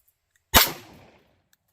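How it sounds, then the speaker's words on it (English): A single Mosin rifle shot, one sharp loud crack with a short decaying tail in an otherwise quiet setting, no voices. "First time shooting the Mosin rounds in my hands."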